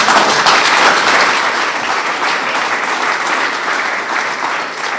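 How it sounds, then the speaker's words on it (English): A crowd at an Israel Independence Day commemoration event applauds steadily, a dense, even wash of clapping that holds at full strength for the whole stretch without letting up. "I didn't think that was an applause line"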